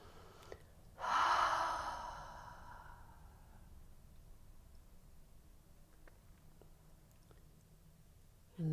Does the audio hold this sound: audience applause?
no